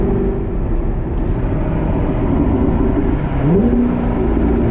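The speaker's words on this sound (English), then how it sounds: "I love the downshifts with that exhaust" A C7 Corvette fitted with an AWE exhaust drones loudly and steadily close by, its engine note sweeping down and back up as it downshifts partway through, with no voices.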